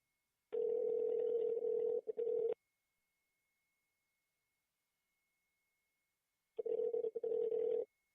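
A telephone ring tone sounds in two bursts, one long trill near the start and another near the end, separated by several seconds of silence.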